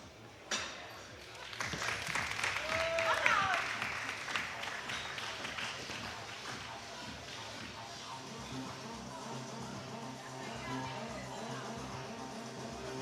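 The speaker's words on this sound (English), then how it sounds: "can we please give a loud round of applause for the supporter team" A powerlifting competition crowd claps for the supporter team, applause that swells after a sharp knock and then thins into scattered clapping, with a whistle-like tone, shuffling and voices around it.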